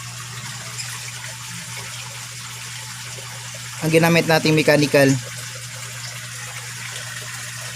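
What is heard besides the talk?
water pump running in pond filter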